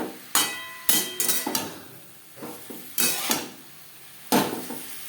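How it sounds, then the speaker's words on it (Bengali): Boiled potatoes and tender pumpkin stalks being mixed with turmeric, salt and spices in a pan, with several sharp utensil knocks and scrapes against the metal at irregular intervals over a faint background sizzle. "হলুদ ডাঁটা আলু এই মশলার সাথে বেশ ভালো করে মিক্স করে দেবো।"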